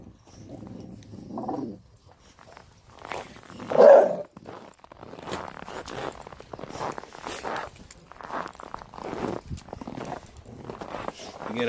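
Several dogs growl and rumble together while eating at a pack group feeding, a low, rough, continuous snarl that runs for most of the stretch with occasional paw shuffling and a voice speaking over it.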